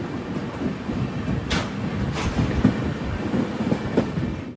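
The Himsagar Express passenger train, on its long Kanniyakumari to Kashmir route, runs steadily on the rails with a continuous rumble and faint clickety-clack of the wheels, heard up close with no talking.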